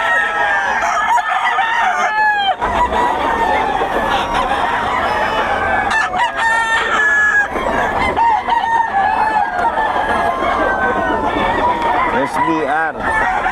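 Roosters crow repeatedly over clucking chickens in Bocaue, a dense, continuous farmyard chorus of overlapping calls close by.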